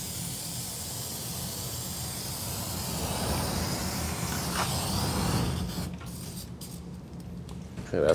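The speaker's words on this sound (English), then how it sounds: "It's helping me be artistic by not letting me spray as much as I want." Spray paint hissing onto a wooden picnic table bench outdoors, a steady broadband spray lasting several seconds, then breaking into shorter bursts near the end.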